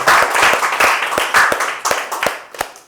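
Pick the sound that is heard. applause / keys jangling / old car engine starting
applause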